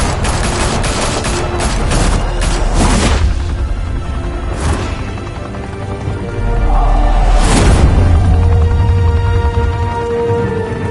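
A loud shootout in a Batman video game: dense bursts of gunfire and booming impacts crowd together near the start, then a further heavy volley rings out, with rumbling echoes filling the gaps.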